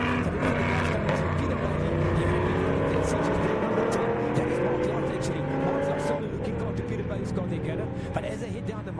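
Race cars in an SKF Legends race speed down a circuit straight, engines droning loud and close with rising and falling pitch as several pass in succession, while a commentator talks over them.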